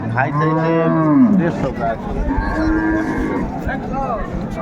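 A cow moos loudly and close by at a livestock market in Raniganj, Dinajpur, a long drawn-out low call followed by a second rougher moo.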